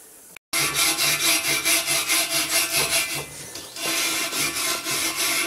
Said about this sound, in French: je vais peut-être passer avant un petit coup de brosse métallique